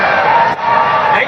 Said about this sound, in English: This massive crowd here.